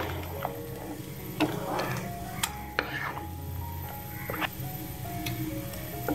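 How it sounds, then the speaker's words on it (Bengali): Pumpkin with turmeric and chili powder is stirred in a pan, giving a faint, soft sizzle with a few light scraping taps of the spoon. "নেড়ে চেড়ে মিশিয়ে নিচ্ছি।"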